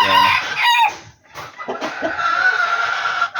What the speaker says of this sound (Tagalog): Ayan yung isang ibon natin na medyo mabait-bait.